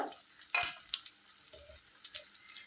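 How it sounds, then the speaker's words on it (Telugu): Ginger garlic paste with turmeric sizzles in a pan for a mutton liver curry, a steady close hiss broken by a couple of brief stirring scrapes, with no voices. "ఇది పచ్చివాసన పోయేదాకా అల్లం వెల్లుల్లి పేస్ట్ ఫ్రై చేసుకుందాం"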